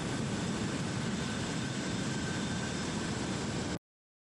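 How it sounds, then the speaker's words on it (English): A jet aircraft called in during a video game roars steadily as a loud, broad wash of engine noise for several seconds, then cuts off abruptly. "I can even call in a jet."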